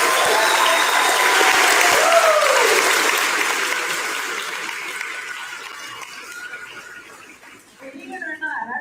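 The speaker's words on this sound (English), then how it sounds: "Can we give them another round of applause?" Audience applause at a fifth grade moving-up ceremony, a loud sustained round of clapping that gradually fades, with a voice speaking over the tail end.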